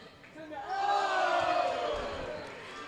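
Big crowd at a high school girls basketball game between Peters Township and Canon-McMillan, a sustained loud roar of cheering that swells and then eases slightly in an echoing gym.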